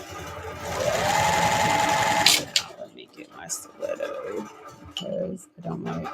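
A sewing machine runs a quarter-inch seam through printed quilting fabric, a steady close whirring hum for about two seconds that then stops, followed by softer handling noises and brief talking.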